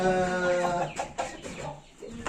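Chickens clucking close by, a busy stretch of short clucks and calls with some farmyard background, no talking.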